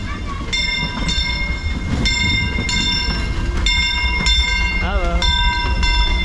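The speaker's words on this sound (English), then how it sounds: "I think I hear a train." A Disneyland train rumbles along close by with repeated clanking rhythmic bursts and a bending tonal squeal, voices faintly mixed into the steady roar.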